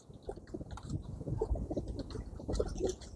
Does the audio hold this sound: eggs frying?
no